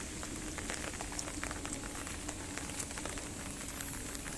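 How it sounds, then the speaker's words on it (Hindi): Overnight rain falls steadily on flower beds at home, a soft continuous patter and drip that stays faint and even throughout, with no voices. "रात भर से बारिश हो रही है।"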